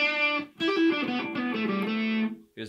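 Distorted electric guitar chords from a PRS Hollowbody II ring out with sustained, buzzy overdriven tone, a short phrase cutting off near the end.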